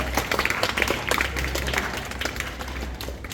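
Students clapping for classmates receiving awards for full marks in a school physics test, a dense patter of hand claps that thins slightly toward the end.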